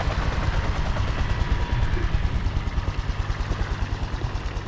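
A helicopter in the video game Cyberpunk 2077 makes a loud, steady rotor chop, with rapid rhythmic pulsing and engine drone that stays close and constant throughout, with no voices.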